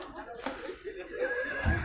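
A horse whinnies with a rising, wavering call amid outdoor noise and a sharp slap, with people talking nearby.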